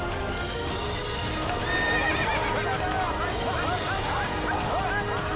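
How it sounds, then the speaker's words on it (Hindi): An agitated, unruly horse neighs and whinnies repeatedly with sharp rising calls, hooves clopping beneath, over a busy, crowded background with voices in a historical drama setting. "अश्व बिफर गया है।"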